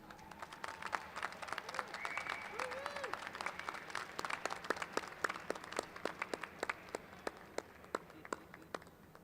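Sustained audience applause at a graduate school commencement fills the whole stretch, many hands clapping at once with sharp individual claps standing out, a large crowd at moderate distance.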